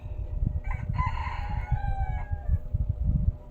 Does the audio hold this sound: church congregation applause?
no